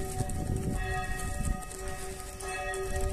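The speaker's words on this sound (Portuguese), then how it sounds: "Ih, o sino da igreja." A church bell rings in a small town in Rio Grande do Sul. Its clear, sustained tones rise over a rough rumble of wind and motion, close and fairly loud for a few seconds.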